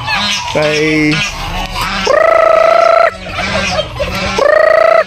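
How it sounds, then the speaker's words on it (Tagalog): Three geese kept as night guards on a poultry farm honk and call loudly in repeated bursts, with a voice heard faintly now and then between the calls. "Ayan, yung 3 gansa na ito."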